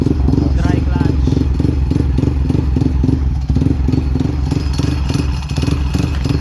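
A motorcycle with a dry clutch revs loudly and steadily during a sound check after tuning, its rough pulsing engine dominating close up while a voice talks underneath.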